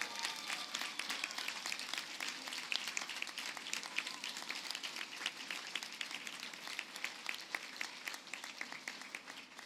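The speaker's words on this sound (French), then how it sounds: "Alors, applaudissez-les à votre tour pour les remercier de leur support tout au long de ces années." Graduates at a university convocation ceremony on the Saint-Jérôme campus clapping for their supporters, a fairly faint, even stretch of many hands applauding together for nearly ten seconds with no speech.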